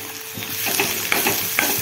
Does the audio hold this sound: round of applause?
no